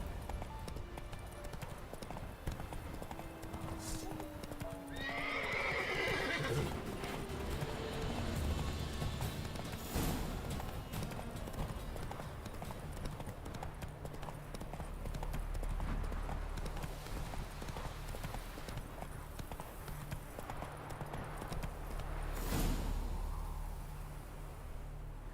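Rhythmic clip-clop of hooves as Geralt's horse Roach gallops in The Witcher 3 video game, steady and continuous with game ambience, a brief whinny-like sound early on and occasional thumps, no speech.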